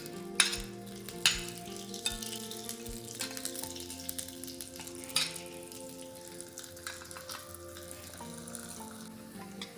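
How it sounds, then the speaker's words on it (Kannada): Garlic fries in coconut oil on a hot stone, giving a steady soft sizzle with a few sharper crackles, faint and partly masked by background music. "ಈ ಥರ ಸರಿ ಕಾಯಬೇಕಿದೆ ಬೆಳ್ಳುಳ್ಳಿ"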